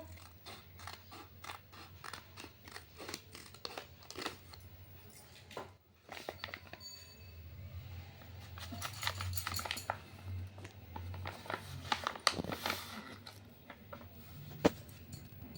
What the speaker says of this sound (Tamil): இப்போ உங்கள் எல்லார் எதிர்க்கவும் நான் பிரித்து காட்டுறேன்